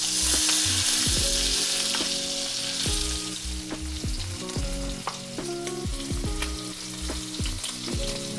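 Lamb chops seasoned with garlic and herbs sear loudly in a hot pan, a steady dense sizzle with recurring low clunks and scrapes as the meat is shifted, no voices.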